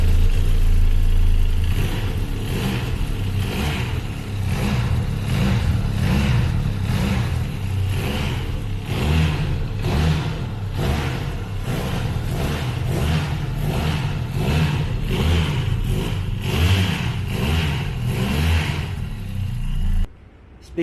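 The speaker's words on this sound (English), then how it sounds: "So let me fire the engine. It's got a double barrel exhaust out here and the sound is just superb." A 2021 Benelli Leoncino 500 BS6 motorcycle with a twin-outlet exhaust runs loud and close for about twenty seconds, its engine rising and falling in repeated throttle blips before cutting off abruptly at the end.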